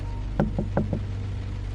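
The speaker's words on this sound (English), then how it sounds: "there was a soft, hesitant knock at the door." A soft, hesitant knock at a door: four light raps in two quick pairs, close and distinct over a quiet room hum.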